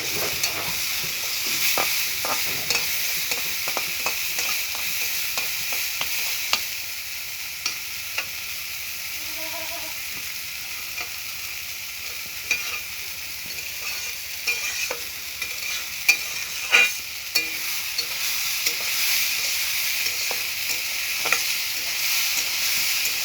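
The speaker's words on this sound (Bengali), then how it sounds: "এখন আবার একটু দিয়ে দিলাম পাঁচফোড়ন" Panch phoron, the Bengali five-spice mix, frying and sizzling in a pan with a steady hiss and scattered small crackles and pops throughout, close by, with no voices.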